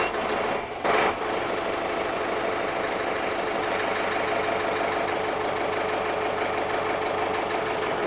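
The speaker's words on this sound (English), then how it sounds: "I'll just start the tractor a minute and then you can see." A tractor engine fires up with a brief burst and then settles into a steady, loud diesel idle that drones on evenly and alone for several seconds.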